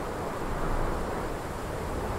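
Strong wind howls in the video game Prey for the Gods, a steady broadband roar that holds at an even level throughout with no talking.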